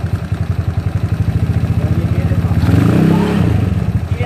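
An SSR Interceptor 150 (ZNEN ZN150T-9) scooter engine idles with a rapid, even putter, then revs up toward 3,000 RPM into a louder, rougher roar before easing back down.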